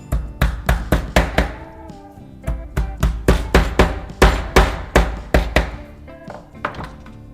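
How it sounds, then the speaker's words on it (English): A hammer taps bolts into drilled holes in a block of wood, roughly two dozen sharp, close knocks in quick bursts of several strikes with short pauses between them. "use a hammer to tap them in tightly"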